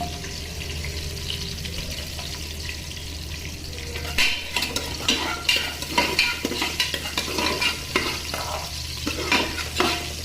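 Cashews fry in hot oil in a pan for chicken biryani, with a soft sizzle under repeated scraping stirs that grow busier and louder partway through.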